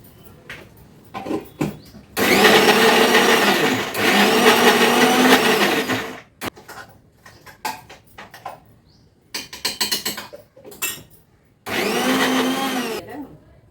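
A mixer grinder whirs loudly in several bursts, blending ginger chutney with tamarind, salt and chillies, with short pauses and clatter between runs.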